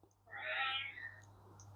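A pet cat lets out a single clear, drawn-out meow close by, rising and then fading over a low steady hum.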